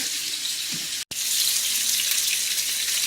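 Water pours from a tap into a cooking pot to cover a chuck roast, a steady rushing hiss that breaks off briefly once and then carries on.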